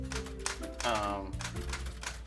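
A manual typewriter with sticking keys clacks in a few sparse strokes, mixed with a voice talking over it.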